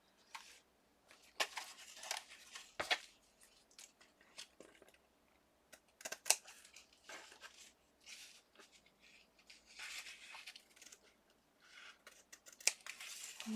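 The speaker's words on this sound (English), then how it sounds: "I'll have to do a little bit more trimming there once I cut this part off, but I want to do that with my rotary" Short, crisp cutting strokes trim the edges of a fabric sewing folio, arriving in irregular bursts with quiet pauses between, close and fairly soft.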